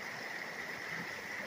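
South Fork Mancos River rushing steadily as a broadband wash of flowing water, soft and constant, heard alone with no talk.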